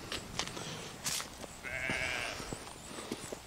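Sheep bleating in a small fenced grazing area, one clear sustained bleat in the middle with other faint animal calls and outdoor rustling around it, moderately close.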